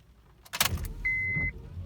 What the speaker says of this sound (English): You can hear it trying to turn.